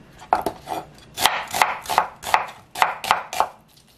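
An onion being chopped with a knife on a cutting board, about ten crisp, evenly spaced knife strikes, close and clear with no talking.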